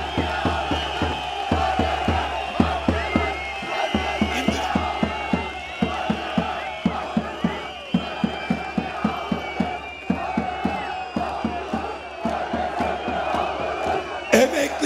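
A large crowd at a Turkish political rally in Gebze claps in steady rhythmic unison and cheers, a dense continuous roar with regular clap beats running throughout, loud and outdoors.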